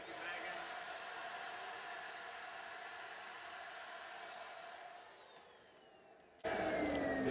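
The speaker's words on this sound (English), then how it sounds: "Don't hold the vacuum for too long, but it'll be good enough to let us have room for our food for the first day." A vacuum pump sucks air out of packed bags on a 16ft sailboat bound for the Bahamas, making a loud, steady whine for about six seconds. The whine drops in pitch and fades, then a louder burst of noise follows.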